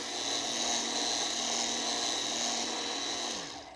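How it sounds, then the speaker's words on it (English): A Wolfgang Puck electric spiralizer motor whines steadily while spiralizing a vegetable into ribbons, close and continuous, then spins down at the end. "Press the motor and then just use gentle to medium pressure and watch your beautiful ribbons come out below."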